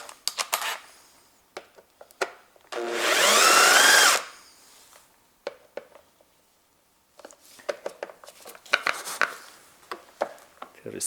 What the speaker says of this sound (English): And I remove, there is two screws, and I use my electric driver.